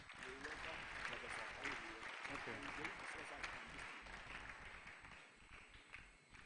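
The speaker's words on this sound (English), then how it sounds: "Please, another round of applause for him." Audience applause at a diocese anniversary celebration, a broad, sustained wash of clapping from a large crowd, slightly distant and fairly even, with some voices mixed in beneath it.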